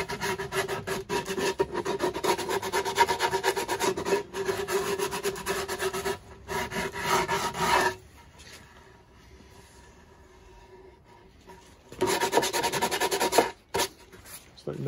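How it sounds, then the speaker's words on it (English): Wooden archtop guitar edges being beveled with a rasp, heard as steady, close rhythmic rubbing and filing strokes that stop for a few seconds and then resume. "Yeah, I'll just kind of bevel the edges real quick."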